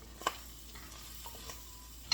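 Food sizzling in butter in a pan as it is stirred, a faint steady crackle close by with a couple of sharp utensil clicks against the pan.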